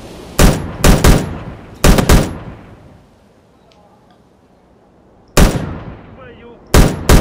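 Gunfire in the video game Stalker: Shadow of Chernobyl comes in loud, sharp bursts of rapid shots, two or three clusters separated by a stretch of quiet.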